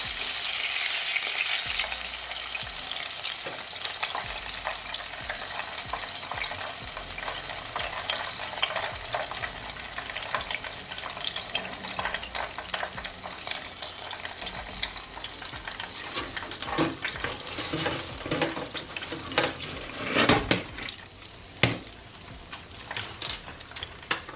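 Pork chops fry steadily in hot oil in a pan, a dense continuous sizzle and crackle with scattered louder pops and spatters toward the end, heard alone without talk.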